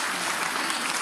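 A church congregation applauds a nun, a dense, steady burst of clapping from a crowd indoors.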